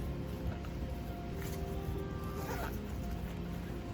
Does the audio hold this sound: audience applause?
no